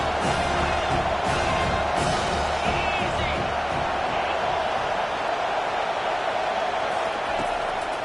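A video-game football stadium crowd roars steadily for the defense on third down, a dense, loud wash of cheering with faint whoops on top that holds level throughout.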